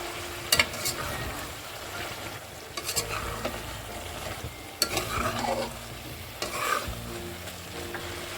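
Ginger-garlic and green chilli paste fries on a high flame while a spoon stirs it in the pan, giving steady sizzling broken by sharp scraping and clinking strokes, close and alone without any talk.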